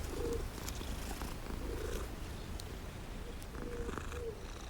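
A cat in the video game Hogwarts Legacy purrs close and steadily in soft rhythmic pulses, with faint ambient game sounds behind it.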